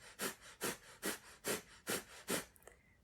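Kapalabhati yoga breathing: six evenly spaced, forceful nasal exhales pump out in a steady rhythm, close and breathy, with quiet passive inhales between and a softer sniff at the end.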